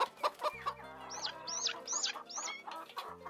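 Chickens clucking close by as they peck at feed on a farm, a run of sharp, rising calls over a low steady hum.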